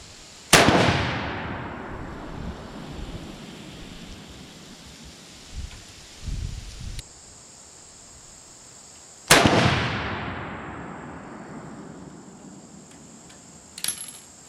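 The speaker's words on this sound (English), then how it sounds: "Let's try a 3-shot group and see what we get with that." A Ruger No. 1 rifle chambered in .303 British fires outdoors, two loud, sharp reports several seconds apart, each followed by a long fading echo, then a fainter click at the end.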